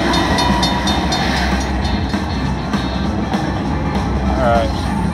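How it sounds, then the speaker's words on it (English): Blue train feature on a Buffalo slot machine in a casino, with a loud rolling train rumble and rhythmic clickety-clack running steadily for several seconds amid casino noise, a voice talking over it. "Blue train, guys, blue train."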